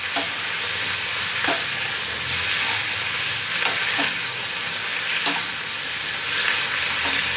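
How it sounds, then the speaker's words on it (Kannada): Mint leaves frying in hot oil give a loud, continuous sizzle with occasional soft stirring scrapes, close and steady throughout with no talking. "ಅದನ್ನು ಎಣ್ಣೆಲೆ ಹುರ್ಕೋಬೇಕು ಫ್ರೆಂಡ್ಸ್"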